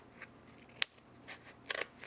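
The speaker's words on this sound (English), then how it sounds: "I can use my scissors here and cut them" Scissors snipping paper flower stickers for a planner setup, a few faint, sharp clicks and short cutting strokes close by in a quiet room, with no talking.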